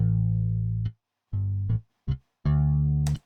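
A MODO Bass plugin bass set to round wound strings plays a short phrase: a long sustained low note, then two brief notes and a final held note, bright and clean, with no speech over it.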